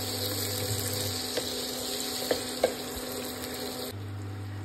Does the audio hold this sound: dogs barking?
no